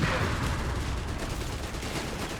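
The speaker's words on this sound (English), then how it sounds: "Sappers there being mauled by the MP40s." MP40 submachine gun fire crackles in a dense, continuous rattle through a Company of Heroes 3 battle, moderately loud and steady throughout the short stretch with no pauses.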